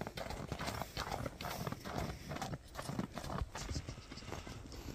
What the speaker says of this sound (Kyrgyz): Кийинки көк ат тартабыз.